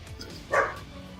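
A single short puppy bark rings out loud and close, standing alone over a faint, steady background hum.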